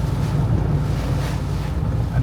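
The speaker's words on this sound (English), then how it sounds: "The wind's blowing pretty hard." Strong Hurricane Helene wind buffets the microphone at the beach in a constant, loud roar with low rumbling gusts and surf-like wash, and no voices heard.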